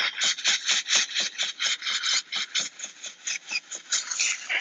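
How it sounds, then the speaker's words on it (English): A steamer scrubs rhythmically over a microfiber cloth laid on a cloth car seat, a fast series of close, raspy rubbing strokes, about four per second, repeating evenly throughout. "I'm going to take my steamer and go like this."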